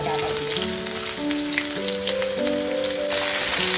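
Vegetable stalks fry in a pan with a loud, continuous sizzle and crackle that runs under sustained background music throughout.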